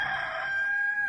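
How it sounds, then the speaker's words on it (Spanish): A rooster crows in one sustained, bright call that holds steady and then trails off, clear and fairly close, with no voices over it. "en ese mismo instante cantó el gallo"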